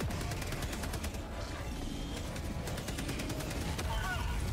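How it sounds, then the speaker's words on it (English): Mortar strikes and explosions in the Helldivers 2 video game, with dense, continuous gunfire-like bursts and booming impacts filling the mix while players talk over the action. "Your mortar almost killed me."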